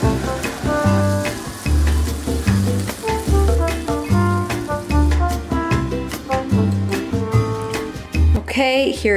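Blue Apron crispy skin salmon pan-frying, a steady sizzle with faint crackles running under prominent rhythmic background music.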